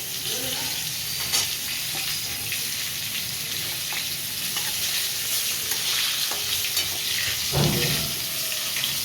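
Pointed gourd pieces fry in oil with a loud, steady, close sizzle. Faint stirring and a few scraping touches rise above the hiss, with no talking.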